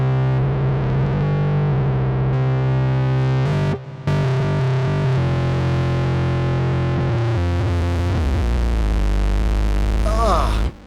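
Loud, heavily distorted synthesizer tones from a vintage 1979 Minimoog grind and buzz continuously, with harsh noisy layers, a brief dropout near the middle and crackling chaos toward the end.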